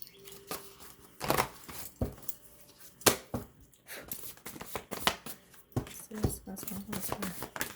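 A deck of advice cards is shuffled by hand, giving repeated papery riffles and slaps in irregular bursts, close up, with brief speech between them.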